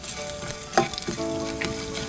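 A spice mixture with cinnamon, cloves and coconut sautéing in a pan, giving a continuous close sizzle with a few scraping stirs and soft clinks partway through.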